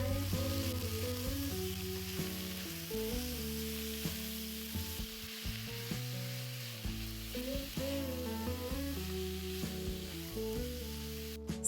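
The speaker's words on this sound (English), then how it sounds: "Toss the beef into the frying pan." Beef sizzles in a hot frying pan, a steady frying hiss that runs the whole way under louder background music with a melodic tune.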